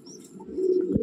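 A Madrasi pigeon, restless while being handled, gives a close, low throaty coo that swells into a brief louder burst near the end.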